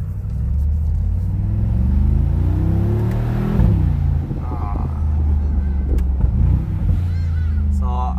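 A 2019 Mercedes-AMG G63 Edition 1 accelerates hard with a deep, loud rumbling engine note that climbs and drops through gear changes, with faint talk from inside the cabin.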